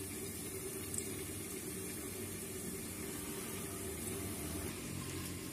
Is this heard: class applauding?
no